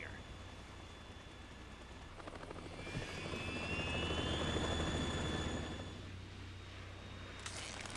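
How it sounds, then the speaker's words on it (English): A Harrier jet engine in the Metal Gear Solid 2 video game roars with a steady whine that swells louder in the middle and fades again, with a rising high-pitched tone sweeping through. "It's the Harrier."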